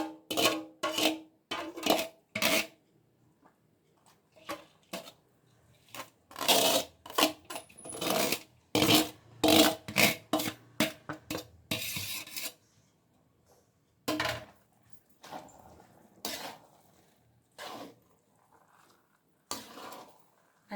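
A spoon scrapes and stirs chana dal laddu powder with roasted dry fruits in a pan, in repeated gritty strokes. Some bursts come quickly in a row and others after longer pauses, close and clear with no talking.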